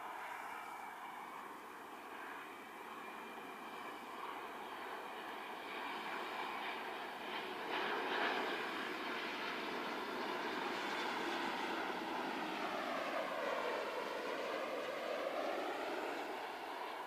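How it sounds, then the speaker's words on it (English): A United Airlines plane arriving at Christchurch Airport makes a steady, distant engine roar and whine that holds for the whole stretch, with a tone that slowly bends and dips toward the end. "So just coming in is United Airlines, UA 730 I believe it said."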